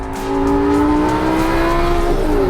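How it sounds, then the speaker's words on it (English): A Lamborghini Gallardo engine in track mode roars loudly up close, pitch sliding and shifting abruptly near the end as it downshifts hard. "The whole car, when you're downshifting, it's a lot more brutal"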